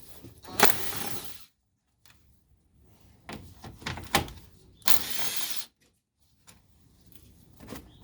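A cordless power tool loosens 10 mm bolts on the air box of a 2012 Toyota Highlander, with two long bursts and a few short ratcheting spurts close by, separated by quiet handling of parts.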